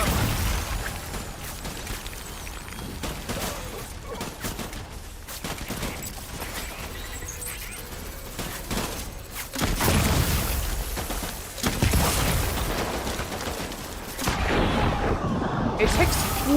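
Grenade blasts in the video game Death Stranding, a run of booming explosions and crackling bursts that swell and fade repeatedly, loud and dense throughout, with a voice speaking over parts of it.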